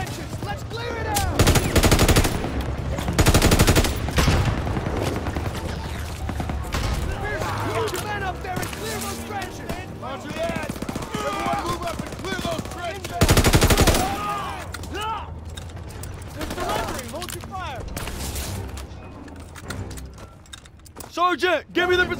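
Tank machine guns in Call of Duty WWII rake a trench line in loud, rapid bursts, with battle explosions and shouting soldiers' voices mixed throughout.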